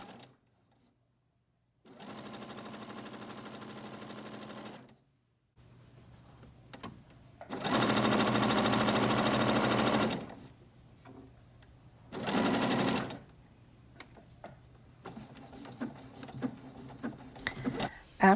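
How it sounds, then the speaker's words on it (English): A sewing machine stitches three table runner panels together in bursts of steady whirring, with one short run, a long loud run, a brief spurt and quiet gaps of handling noise between them. "I'm now sewing the 3 panels for the table runner together."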